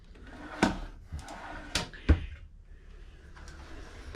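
Drawers in a tiny house slide and bump shut with several sharp wooden knocks, a couple of them close and distinct, separated by short rattling glides and a quiet room in between.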